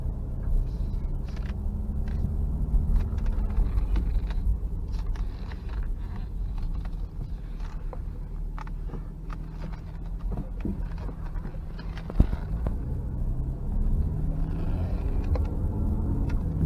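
A 1995 Nissan Skyline GTS4 on the road, its engine and tire rumble forming a steady low drone from inside the cabin, dotted with small clicks and rattles.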